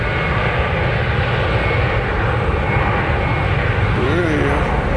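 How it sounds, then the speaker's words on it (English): A large Delta jet airliner takes off at Nashville International Airport with a steady, continuous engine roar that holds at an even level for the whole stretch, heard from a distance. "Somebody's taking off though. And it's going to be the big Delta going to Minneapolis."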